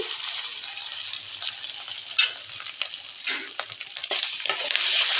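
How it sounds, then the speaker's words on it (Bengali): Ginger and garlic paste frying in butter for butter chicken, a steady close crackling sizzle with scraping stir strokes throughout, growing a little louder toward the end, with no voices. "এখন আমি দুই চামচের মতো জাদা বাটা দিয়ে দিচ্ছি আর রসুন বাটা একসাথে"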